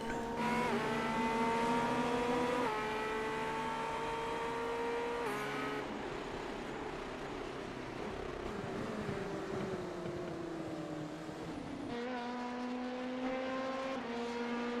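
Sim GTP prototype race cars in iRacing at Sebring roar off the start in a dense pack, engines droning and shifting pitch with repeated gear changes, loud and continuous throughout.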